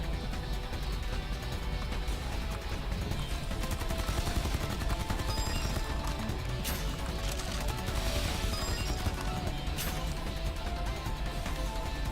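Dense, continuous gunfire from the video game Sword Art Online Fatal Bullet, with rapid shots and crashing impacts at steady loudness throughout and no talk.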